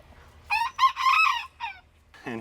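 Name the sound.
rooster crowing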